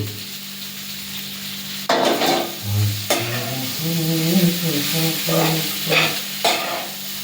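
An egg goes into a hot pan and is stirred as it fries, with a steady close sizzle broken by repeated scraping strokes of a spoon against the pan.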